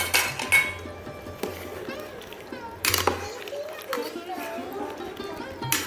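Potatoes go into a pot of mutton curry with clinks and clatters of metal against the pot, several sharper knocks among them. Children's voices and chatter carry on throughout.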